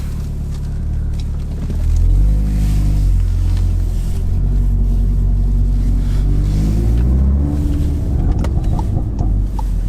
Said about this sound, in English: See, as I let off, it's just crackling a little bit